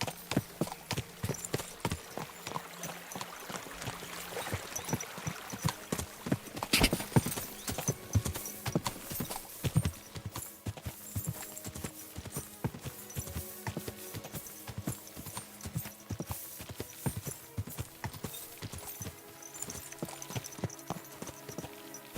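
Steady clip-clopping horse hooves in Kingdom Come: Deliverance 2, in a quick, even rhythm with game-like ambience, continuing throughout with no talking.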